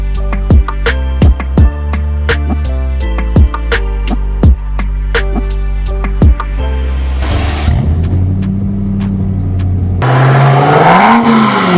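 A BMW M6 F06 fitted with a GTHaus catback exhaust revs repeatedly, with sharp throttle blips rising and falling in quick succession, then a longer held rev and a deep rumble, loud and close with no talking.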